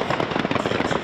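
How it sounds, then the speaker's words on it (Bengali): Fireworks at a New Year 2025 celebration in the United States, heard as a dense, continuous run of crackling bursts and pops that fills the whole moment at steady loudness. "চলে আতশবাজি আর কনফেট্টি ছুড়ে উল্লাস।"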